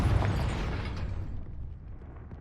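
A Confringo explosion spell from the video game Hogwarts Legacy goes off as one loud, booming burst that rolls into a long, fading rumble, with no voices over it.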